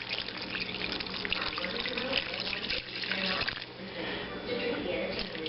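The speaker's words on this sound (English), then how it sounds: "I'm going to add just enough water to cover." Water pours steadily from a tap into a pot, a continuous splashing rush with a voice speaking faintly underneath.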